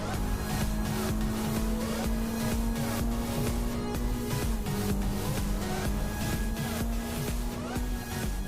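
Toyota 86 TR86 race car driving at Mansfield, a loud, steady engine note holding near-constant pitch with a brief dip midway, mixed with tire and track noise throughout.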